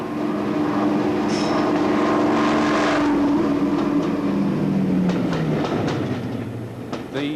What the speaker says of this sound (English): They were the only production class of diesel-electric locomotive built with 2 engine and generator sets.